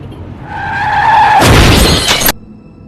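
A film car crash: a rising tyre skid squeals for about a second, then cuts into a loud, broadband impact of crunching metal and shattering glass, which stops abruptly.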